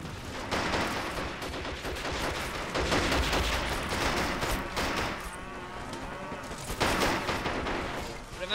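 Gunfire from the war strategy game Men of War Assault Squad 2, dense crackling fusillades and machine-gun bursts rolling on continuously beneath loud battle noise, with people talking over it.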